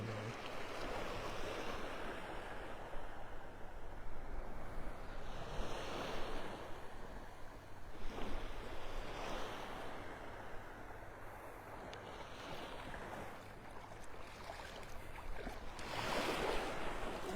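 Ocean surf rolling onto a beach in North Naples, Florida, a continuous washing roar of breaking waves with wind noise buffeting the microphone, steady throughout with slight swells.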